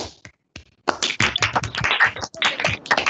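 A burst of scattered clapping and tapping, many quick irregular hits close to the microphone, building after a brief pause.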